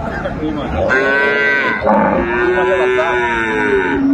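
A Brahman cow moos loudly and close by in long, drawn-out lowing calls, two sustained bellows filling the clip over a noisy cattle market background in Aftabganj, Dinajpur.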